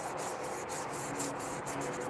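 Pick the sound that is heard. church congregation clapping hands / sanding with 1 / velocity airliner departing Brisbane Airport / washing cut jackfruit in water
sanding with 1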